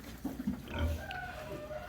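Piglets being sold off a farm give a few short grunts and squeals at close range, with soft rustling in the background.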